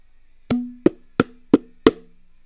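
Five dry, bright bongo hits through a high-pass filter, spaced evenly with short decays, played alone in quiet.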